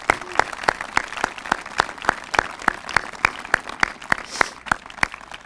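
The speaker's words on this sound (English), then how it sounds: "Let's give them a round of applause for what they did today." Applause from the crowd at a veterans memorial dedication ceremony in Andover, Minnesota: steady, evenly spaced claps that carry on at a moderate level for several seconds without speech.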